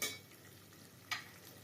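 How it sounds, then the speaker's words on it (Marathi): Chopped onion frying in a pan for a chicken gravy, a soft continuous sizzle broken by two brief scraping stirs at the start and near the middle, close and quiet. "कांदा थोडासा ढवळून घ्यायचा"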